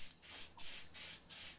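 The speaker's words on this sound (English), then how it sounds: "So I give it a good old spray on the back of the picture" Four bursts of aerosol adhesive sprayed onto the back of a paper picture hiss in quick succession, each a short, close, loud pshh separated by brief pauses.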